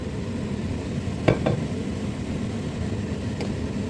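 Pork and mixed vegetables stir-fried in a pan give a steady close sizzle, with a couple of brief scraping clinks from the stirring partway through.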